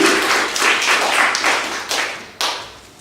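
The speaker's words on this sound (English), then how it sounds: "huge round of applause for Soup Kitchen as well." A small live audience at a reading event applauds the Soup Kitchen venue, close, uneven clapping in distinct bursts that swell and fade, with a sharp fresh surge near the end.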